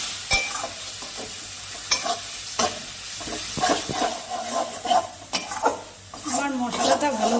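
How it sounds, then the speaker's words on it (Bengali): A spice paste of cumin and chili powder fries in a pan with a soft continuous sizzle, while a spoon scrapes and stirs in uneven strokes and metal clinks against the pan now and then. "এবার আমি মশলাটাকে ভালো করে কষিয়ে নেব।"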